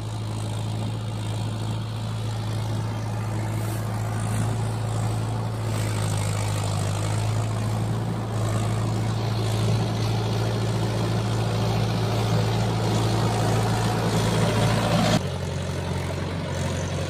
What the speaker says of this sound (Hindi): अपना महिंद्रा जो है उसी रास्ते से आ रहा है, आप देख सकते हैं पूरा फुल रेस से